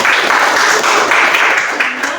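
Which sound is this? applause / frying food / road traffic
applause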